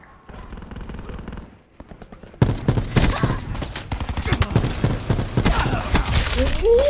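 Rapid gunfire from a gun in the video game Black Ops 4, first a muffled burst, then after a brief pause a loud, dense stream of shots with impacts, continuing steadily to the end.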